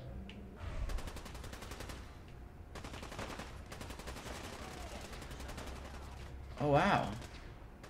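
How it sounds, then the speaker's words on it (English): Gunfire crackles through a Fallout 4 battle between synths and super mutants, bursts of rapid automatic shots in several clusters with a louder blast near the end, while a man briefly exclaims over it. "We got a synth versus super mutant battle."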